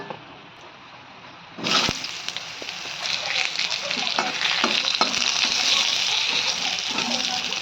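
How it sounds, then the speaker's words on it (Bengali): Potatoes dropped into hot oil in a pan for a Bengali fish curry, bursting into a sudden loud sizzle that settles into steady frying with stirring and scraping. "আর এইদিকে আমার তেল গরম হয়ে গেছে, এখন আমি আলুটা দিয়ে দেবো।"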